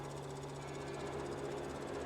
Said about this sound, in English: Really is hard work for this tiny little tractor, even though I've upped the horsepower.